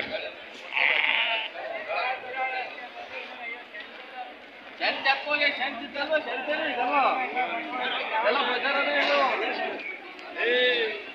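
Several sheep bleat repeatedly, close and loud, overlapping one another amid a busy crowd of murmuring voices and general commotion at a livestock market in Tumakuru.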